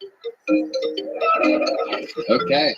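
A Nokia mobile phone ringtone plays a bright, tinkling melody nearby, heard together with a voice speaking over it.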